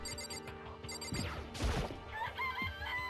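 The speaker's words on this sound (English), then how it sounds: "It's a chicken." Danganronpa chicken clucking and crowing over a steady bed of game music, with a few sharp squawks and a rising crow in the middle, moderately loud and without talk.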